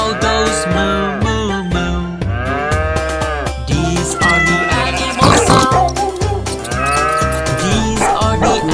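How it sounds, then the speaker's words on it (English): A cow moos in a children's animal-sounds song, with repeated loud moos over a musical backing and a singing voice. "And the cow goes moo."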